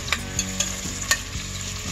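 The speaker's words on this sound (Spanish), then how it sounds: "estamos amortiguando un poquito la cebolla, el pimiento y el ajo." Onion, pepper and garlic sautéing in a pan, a steady close sizzle broken by a few sharp spatula taps and scrapes, with no one speaking.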